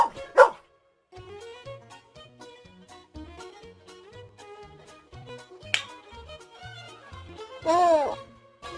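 A cartoon dog gives a short bark near the start and another yelping burst near the end, set over light children's music with a steady melodic backing.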